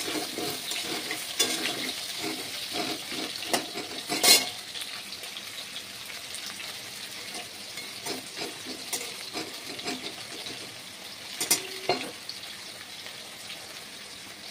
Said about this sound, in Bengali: এবার আলুটা একটু জোরে ভেজে নেব।